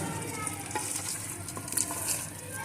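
Three crumbled onions frying over raised heat in a pan for an aloo matar curry, stirred and mixed: a continuous crackling sizzle with scattered spoon scrapes and clinks, close and fairly loud, no voices.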